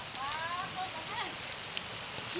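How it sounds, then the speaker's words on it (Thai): Steady rain falls in a rural Thai village, a continuous soft hiss of drops on surfaces with faint distant sounds mixed in. "ฝนตก"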